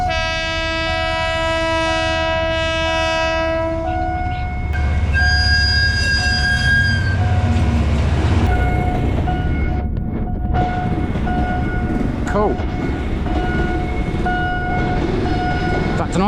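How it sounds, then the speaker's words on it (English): A train horn blares in long chords as a train rolls in, wheels clattering and brakes squealing near the platform, with some voices nearby. "How many times train come? Here it comes anyway."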